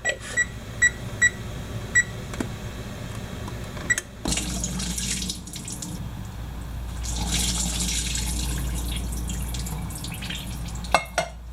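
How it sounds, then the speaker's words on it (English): Drained chickpeas are rinsed under running water, a few drips first, then a steady faucet stream splashing into a colander and sink, close and moderately loud, with no speech. "So we drained our chickpeas, and then we're going to give them a rinse."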